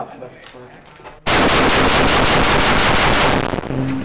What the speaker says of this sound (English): put some blanks on that corner